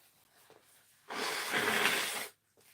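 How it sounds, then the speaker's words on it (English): One person blows their nose indoors, a close, loud nasal rush that lasts just over a second, with faint breaths on either side. "I'm just going to blow my nose for a second"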